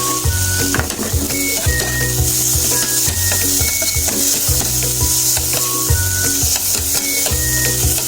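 Chopped tomato and onion sizzle steadily in a hot pan with beaten egg for an omelette, a loud continuous frying hiss broken by repeated stirring scrapes and clinks of a utensil against the pan.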